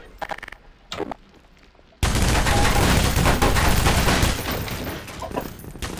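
Rapid bursts of gunfire from the video game Half-Life 2: Lost Coast erupt loudly after a couple of quieter thuds, a dense sustained volley that continues for several seconds with no speech.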